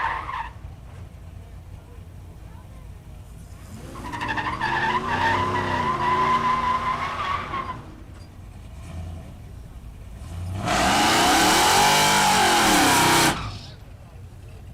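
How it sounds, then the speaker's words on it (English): A supercharged Ford F-150 at a no-prep truck drag race at Newport Raceway revs in two loud surges, with tire squeal and engine roar each time, while an announcer speaks between and over them. "Vaudrin, the rum builder, in his F-150 with a supercharger"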